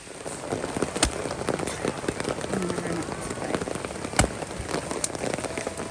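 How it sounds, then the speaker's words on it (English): Steady rain falls through the forest at a wilderness camp by Swamp Creek in Montana's Cabinet Mountains. The patter is dense and continuous, with a few louder drops and knocks standing out near the listener. "but the rain kept coming"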